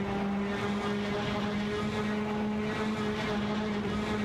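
Race car engines in an AI racing video game, an Alfa Romeo Giulietta TCR and an Audi RS3 TCR, hold a steady, loud, high droning whine with sustained tonal harmonics and no breaks.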